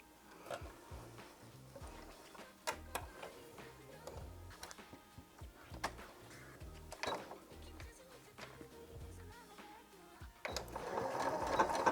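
Sewing machine straight stitching a fabric scrunchie with a quarter-inch seam, short bursts of close mechanical stitching broken by clicks and fabric handling, rising to a denser run near the end.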